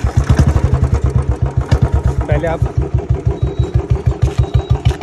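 A Royal Enfield Bullet BS4 Standard motorcycle idles close by with a steady, loud, rhythmic single-cylinder thump throughout, while someone talks over it briefly.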